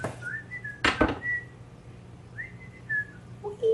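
A person whistling a few short, casual tonal notes, with a brief burst of noise near the start and quiet pauses between phrases.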